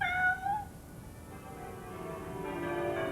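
A cat meows alone and fairly faint, a couple of rising-falling cries in the first second, followed by quiet ringing tones like distant bells.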